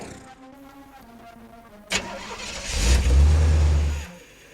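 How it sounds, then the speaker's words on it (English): A car engine starting sound effect: a sharp click, then the starter cranks and the engine catches with a loud low rumble and rev that holds for a second before cutting off. "so I like this noise, the car engine start"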